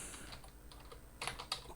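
Quiet, close typing on a computer keyboard, a short burst of soft keystrokes with a couple of slightly louder taps toward the end.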